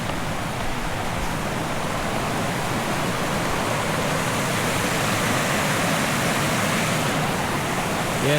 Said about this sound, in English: I believe this right here is the top of Bridesmaids Falls